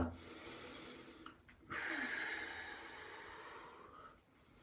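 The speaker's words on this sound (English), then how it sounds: "With the breath, you're going to breathe in and exhale." Breathing during chi kung practice: a soft, close inhale followed by a longer, airy exhale that fades out, quiet and alone.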